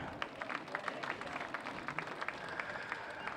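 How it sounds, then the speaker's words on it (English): Sustained applause from the grandstand at Archerfield Speedway for a sprintcar driver at a 2012 sprintcar race night, many hands clapping continuously with a few louder individual claps standing out. "Keep the applause going"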